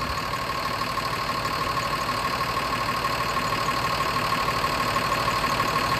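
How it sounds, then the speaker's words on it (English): A bus engine idles steadily with a constant low knocking rumble while its air brake compressor runs alongside, loud and close throughout, with no one talking. "As you can hear it when the compressor kicks back in."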